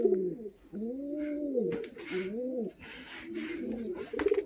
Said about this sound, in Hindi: और बाकी तो ये कबूतर देखो यार